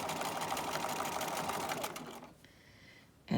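A sewing machine stitches a mini quilt for a holiday binder cover in a steady, fast buzz for about two seconds, then slows and quiets before a brief louder burst at the end.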